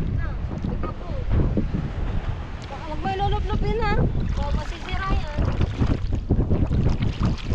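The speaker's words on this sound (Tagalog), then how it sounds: "Lakas ang hangin. Ang lakas ng hangin." Strong wind buffeting a small boat out at sea, roaring and gusting steadily against the microphone with waves sloshing underneath, while people talk over it.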